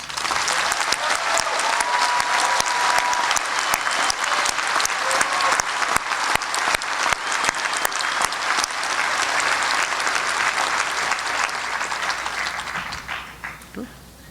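Sustained applause from a large audience at a college commencement fills the room with dense clapping for over ten seconds before thinning out and fading at the end.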